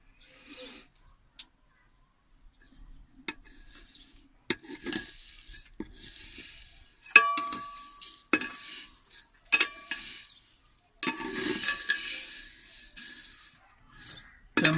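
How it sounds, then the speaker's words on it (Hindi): A spoon scrapes and stirs dry vermicelli (sewaiyan) being roasted without oil in a pan, with quiet irregular rasping and clinking strokes that come and go, some scattered and a few louder. "चमचा चलाते रहना क्योंकि नीचे जल न जाए"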